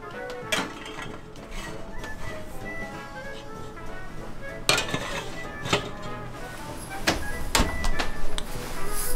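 Two loaves of medieval barley and ale bread go into a very hot oven, with clattering metal knocks, scrapes and thuds of trays and an oven door, nearby and irregular.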